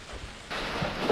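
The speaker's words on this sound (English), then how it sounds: "It's raining." Rain begins falling on an allotment garden before a storm, a soft hiss that swells abruptly into a fuller, steadier wash of drops partway through, fairly close and without voices.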